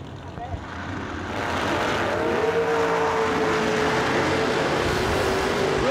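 Roadster cars launch in a drag race and roar as they accelerate, a loud sustained engine drone rising and holding steady, with a commentator talking over it.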